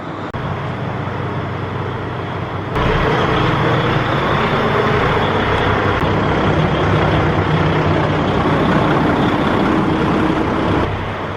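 A truck reverses a spray trailer into a corner, its engine a loud, steady rumble that swells partway through and holds close by, with no speech.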